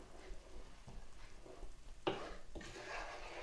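Blackberry jam being stirred in a pot, with a soft bubbling simmer under a few scraping strokes of a spoon that grow louder toward the end, close and quiet.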